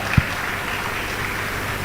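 A seated audience at an education summit claps for an outstanding teacher: a short, steady burst of moderately loud applause with one sharp thump near the start and no voices.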